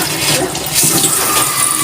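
Loud, steady rush of water gushing out in a continuous flow from a water pump, close by, with no talking.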